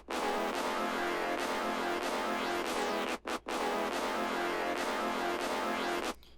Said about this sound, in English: the first sound I started with was a Venexi octave brass out of his 3K